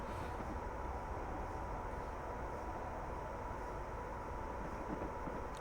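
A Class 87 electric train runs over Shap on the West Coast Main Line in Train Simulator, giving a steady, continuous cab rumble and hum with faint rocking noises and no voices.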